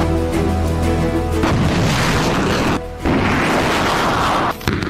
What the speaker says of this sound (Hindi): इस एक मिनट के वीडियो में ज़ेलेंस्की ने अमेरिका से मिली M777 तोप से लेकर हाईमार्स के रॉकेट हमले दिखाए